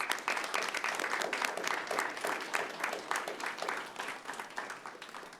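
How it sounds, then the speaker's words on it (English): A city council meeting audience claps for high school students, brisk, crisp applause sustained throughout and easing slightly toward the end. "Can we give them all a round of applause?"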